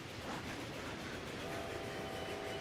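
A train runs in the railway-management video game Railway Empire, giving a steady, faint rolling rumble with a rhythmic rail clatter, heard alone without speech.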